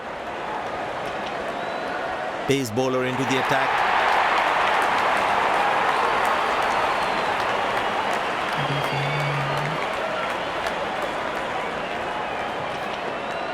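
Crowd cheering and applause in a cricket video game as the openers walk out, a steady broad roar throughout with a commentator talking over it and a short horn-like blare near the start.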